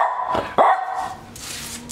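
A dog barks twice in quick succession, close and loud, followed by quieter room noise with no talking.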